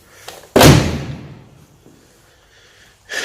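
A Mercedes 560SL door with its original paint swings shut in one heavy, solid thud, close and loud, followed by a short fading tail and faint rustling.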